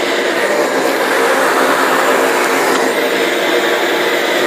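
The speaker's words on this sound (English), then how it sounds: "This dust collector is pretty light too, quiet." A light, quiet dust collector runs steadily as a close, even broadband whoosh with no change for several seconds and no talk over it.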